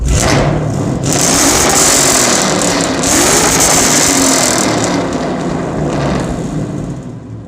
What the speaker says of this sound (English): she does have the BBK high flow X pipe running into some MagnaFlow axle back deletes, which sound great